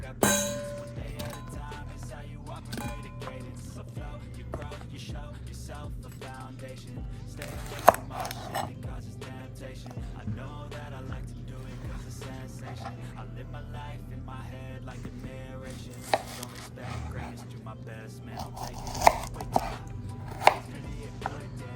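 A knife chops Brussels sprouts on a cutting board in a quick, steady run of sharp taps, fairly close and moderately quiet, with occasional louder knocks and faint voices in the background.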